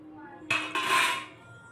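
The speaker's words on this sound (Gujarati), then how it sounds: "હવે આમાં પનીર નાખી દઈશું." Paneer cubes dropped into a metal pan of hot masala on a home stove give two quick clattering hits followed by a short bright sizzle that fades within about a second.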